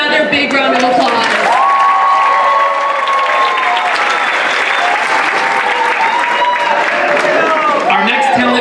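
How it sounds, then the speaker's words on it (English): Loud crowd applause and cheering for performers at a talent show, steady dense clapping with whoops and high shouted voices rising over it throughout, close and full. "Let's give them another big round of applause"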